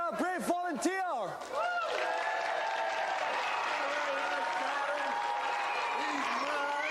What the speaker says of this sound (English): Round of applause for our brave volunteer.